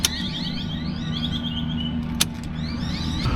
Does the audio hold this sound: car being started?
yes